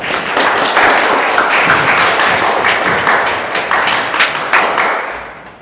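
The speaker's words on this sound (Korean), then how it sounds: "박수 한번 보내주십시오." A church congregation claps together during a Sunday worship service, a loud burst of many hands with uneven, overlapping claps that rise quickly and gradually thin out toward the end.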